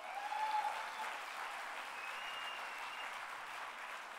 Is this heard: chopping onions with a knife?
no